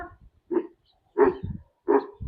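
A big Kangal dog named Mavzer barks three times at close range, each bark a deep, throaty woof separated by brief pauses.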